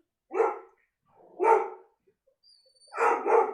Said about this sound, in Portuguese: Cachorros latindo ao fundo.